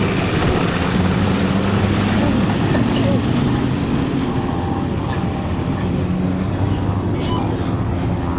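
A BV tracked over-snow military vehicle drives past with a steady, loud engine drone and rumbling tracks that hold constant throughout, with faint background noise beneath.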